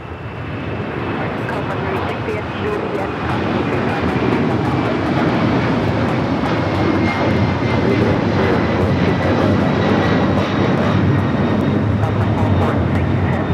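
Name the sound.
Delta Boeing 767-400ER taking off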